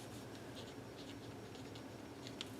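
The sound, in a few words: slick writer pen writing on vellum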